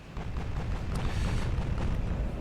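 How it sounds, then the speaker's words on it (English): Warship main guns fire shells in the Ultimate Admiral Dreadnoughts naval game, set in a 1920 campaign: a continuous heavy rumbling boom of massed gunfire, moderately distant and muffled, with no gaps. "I am going to switch the main guns to forced armor-piercing shells now."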